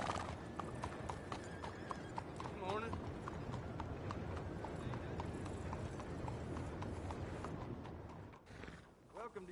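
Horse hooves clop in a steady, close rhythm in Red Dead Redemption 2, with a brief whinny partway through and voices talking over the steps.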